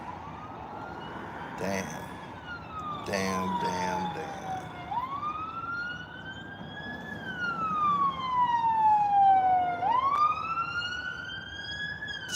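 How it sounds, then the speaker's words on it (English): An ambulance siren wails from a distance, its tone sliding slowly up and down in long sweeps, with a short voiced remark and some faint thumps over it. "That ambulance that you just heard"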